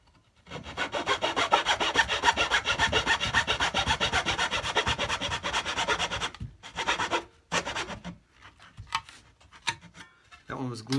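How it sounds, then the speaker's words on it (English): Fret saw cutting wood off a cigar box guitar headstock, with rapid rhythmic rasping strokes that run steadily, then break into short bursts and pauses near the end, close and loud. "I'm not measuring, I'm just kinda eyeballing it, and I'm using my fret saw."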